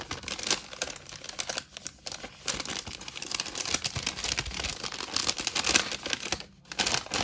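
A gift package from Germany is unwrapped, its plastic wrapping crinkling and rustling continuously up close, loud and busy with brief pauses.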